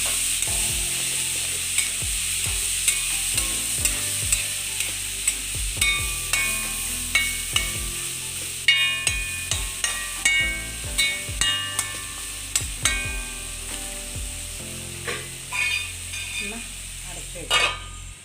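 Vegetable thoran is stirred in a frying pan, with steady sizzling under repeated scraping and clacking strokes of the spoon that fall in an irregular rhythm, close and fairly loud.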